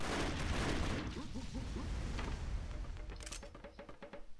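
Rapid gunfire from a female character's weapon in the 2D action game Broforce, a dense crackling burst of shots and small booms that thins into scattered pops and clicks toward the end.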